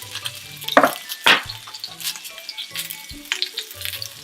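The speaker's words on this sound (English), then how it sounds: "you hear that it is in fact hot because you can hear that it's sizzling" Food sizzles and fries in a hot sauté pan, a steady crackling hiss broken by a few louder sputtering bursts and faint clinks of a utensil against the pan, close up with no talking.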